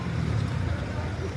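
Night street traffic in Angeles City produces a low, continuous rumble of passing cars and engines close by, with a voice speaking over it.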